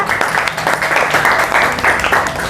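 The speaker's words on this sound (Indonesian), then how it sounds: "Aplaus ya." A classroom audience claps together after group presentations, a dense, steady burst of applause with crowd murmur mixed in, sustained at close range throughout.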